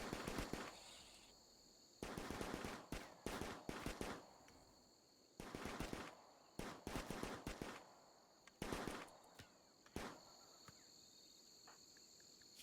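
Pistol or sniper rifle fire in Rimworld rings out as repeated sharp shots in quick clusters, spaced by short pauses over a faint, steady insect-like background hum.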